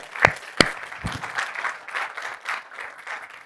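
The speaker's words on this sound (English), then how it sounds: "Let's give a big round of applause to our team that we're presenting tonight." An audience at a corporate evening showcase in Sydney gives a big round of applause, opening with a couple of sharp nearby claps before settling into a steady, sustained wash of clapping.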